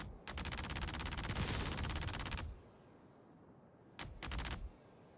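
Valkyrie ship guns in Star Citizen pour sustained automatic fire at dummy targets, a loud dense burst lasting over two seconds, then a pause and a shorter second burst.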